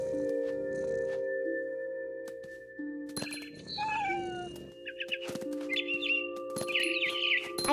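Synthetic bird chirps and short tweeting trills from the game What Remains of Edith Finch, over tonal game music and a few clicks, some meow-like calls mixed in.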